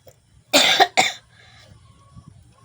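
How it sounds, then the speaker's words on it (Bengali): A sick person with fever coughs twice in quick succession, loud and close, followed by quiet room noise. "কাশি।"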